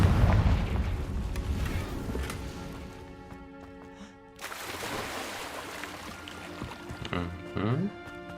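A Confringo fire spell bursts in Hogwarts Legacy, booming explosions and a crackling blast, loud and close, followed by further impacts among game music and effects, with a voice talking over it.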